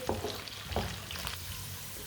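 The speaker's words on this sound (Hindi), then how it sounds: "मटर को भी 2 मिनट के लिए मैंने फ्राई कर लिया है।" Peas fry in a pan with a soft, continuous sizzle, broken by a few light stirring scrapes and clicks, heard close and fairly quiet for about two seconds.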